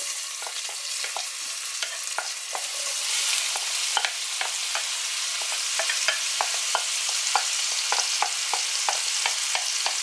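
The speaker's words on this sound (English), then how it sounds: "next I'm going to add my jalapenos and my one chopped onion" Jalapeños and a chopped onion fry in melted butter, with a soft, steady sizzle broken by frequent sharp clicks and scrapes as a utensil stirs the pan close by.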